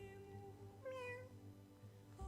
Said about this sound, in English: there's your fluffy little kitty